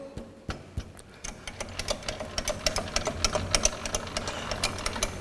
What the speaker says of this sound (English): my first machining operation is facing